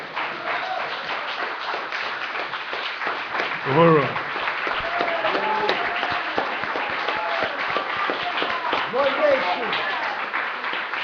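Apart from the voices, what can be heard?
audience applause for Chairman Omali Yeshitela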